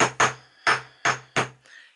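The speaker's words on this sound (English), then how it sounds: "I'm just tapping that quite hard," A hammer taps wire flat for a wire-wrapped pendant: five sharp, close, metallic strikes spaced about a third of a second apart, each ringing briefly, then a faint trailing tap.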